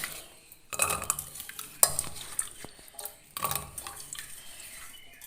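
Pieces of cleaned yam go into a pressure cooker in a few separate bursts of close metallic clatter and scraping, with quiet gaps between them.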